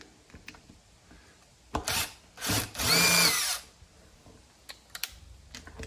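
A power drill takes screws out of a handlebar mount on an electric bike conversion kit, with brief close whirring bursts, one longer sustained spin and scattered small clicks and taps in a quiet room.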